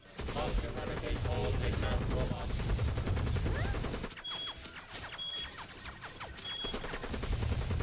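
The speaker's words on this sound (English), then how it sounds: "Why is Omega shooting everything?" Omega firing in Sonic Heroes: loud, rapid streams of gunshots and blasts, briefly dropping off midway, then resuming with game sound effects.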